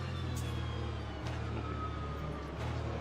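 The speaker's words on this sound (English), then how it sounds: "As soon as these car engines started going" Racing GTE car engines in the sim Le Mans Ultimate droning steadily with a low, continuous roar and faint whine, holding constant loudness throughout with brief dips, no talk over it.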